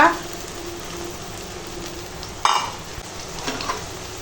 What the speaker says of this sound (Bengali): এখন দিয়ে দেবো এই যে আদা রসুনের বাটা